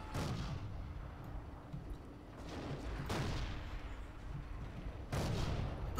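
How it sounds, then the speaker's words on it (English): Grenade explosions and gunfire in the WWII shooter game Forgotten Hope 2, with several booming bursts at intervals over rumbling battle noise, moderately loud and without speech. "Grenade!"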